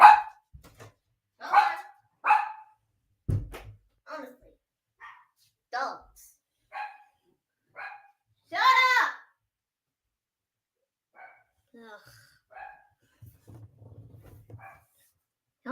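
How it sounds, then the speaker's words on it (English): Dogs bark in scattered bursts, some sharp and close, others fainter, with long quiet gaps; a loud cluster of barks comes midway, and a person speaks briefly. "the dogs always have to bark when they see something"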